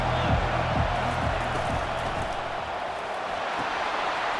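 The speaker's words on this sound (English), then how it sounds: "This crowd trying to make life miserable for this offense." Stadium crowd noise from a Michigan vs Notre Dame college football video game: a steady, loud, dense roar that fills the whole stretch, with low commentary-like murmurs underneath.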